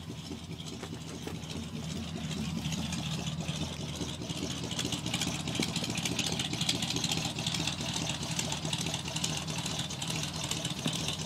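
A 1985 Chevrolet pickup's carbureted engine with electric choke idles steadily after a cold start, a constant close-up rumble with an even, slightly low high-idle tone throughout and no talking.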